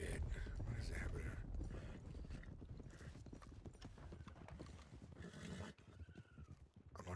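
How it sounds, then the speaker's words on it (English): Horses in the video game Red Dead (WildRP) make loud, busy clip-clopping hoofbeats with occasional whinnies, a dense herd sound that drops off briefly near the end. "That sounds like all the horses."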